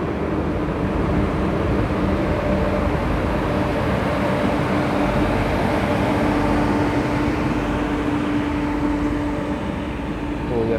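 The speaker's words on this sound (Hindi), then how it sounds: "यहाँ पे हम ओवरटेक कर रहे हैं नगरसोल काचीगुड़ा एक्सप्रेस को" A steady, loud rumble of a moving Indian passenger train running alongside and overtaking the Nagarsol–Kacheguda Express, which is hauled by a Lallaguda WAG-9 goods locomotive; the noise is continuous and close, with no speech.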